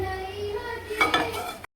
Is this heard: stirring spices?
yes